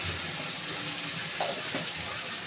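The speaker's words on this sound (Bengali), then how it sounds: "টমেটো আর হলুদ গুঁড়ো দিয়ে ভাজা ভাজা করছি" Tomato and turmeric powder frying in oil for a rohu fish curry, a soft continuous sizzle with a hissing, watery texture, fairly quiet and steady over the short stretch, no voices.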